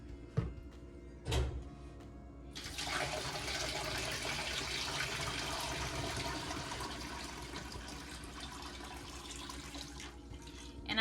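Room-temperature water pours into a canner holding seven jars of pears, a steady rushing stream that starts after a couple of brief knocks and runs on evenly to the end.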